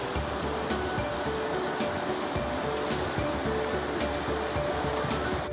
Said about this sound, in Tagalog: These are a series of rapids on the St. John River, where the river runs through a narrow gorge before emptying into the Bay of Fundy.